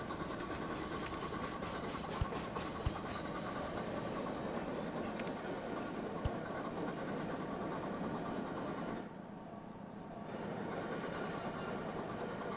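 A steel train rolls along rails in the Chris Sawyer's Locomotion simulation game, giving a steady, dense rumble with faint clicks throughout and a short dip in level near the end, with no voices.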